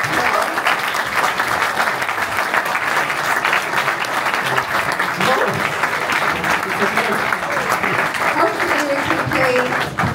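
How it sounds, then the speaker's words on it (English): A live chess event crowd in Hamburg applauds warmly, dense continuous clapping from a large audience filling the room, with faint voices mixed in beneath. "Please give him a warm round of applause."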